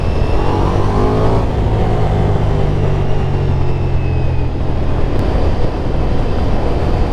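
Ducati Diavel V4 motorcycle riding on a road, a steady, loud engine drone with wind rush that holds throughout, the engine note rising and falling slightly as it cruises.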